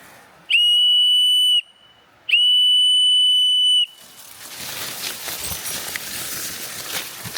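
Two long, shrill blasts of a whistle ring out in a remote Hokkaido mountain forest, each about a second long with a short gap between. Quiet rustling outdoor ambience follows.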